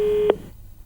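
A telephone busy tone on a dropped call during a live news phone link: one steady mid-pitched tone holds briefly, ends with a short click, and then the line goes quiet.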